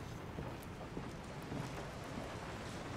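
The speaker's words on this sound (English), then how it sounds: "It's raining." Steady rain falls in a dark outdoor scene of the video game Resident Evil 7, a continuous even wash of noise with low rumbling beneath that may be distant thunder, no voices present.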